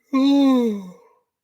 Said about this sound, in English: That was a big yawn.